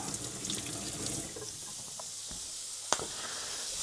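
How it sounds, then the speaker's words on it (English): Water from a running kitchen tap pours continuously while hands are washed beneath it, a close steady hiss with a sharp clunk near the end, no voices. "Gonna wash thy hands"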